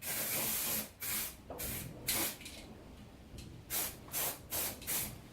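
An aerosol can sprays acid etch primer onto a Classic Mini rear subframe, coming in a string of short hissing bursts with brief gaps, close and steady, then several quicker puffs at the end.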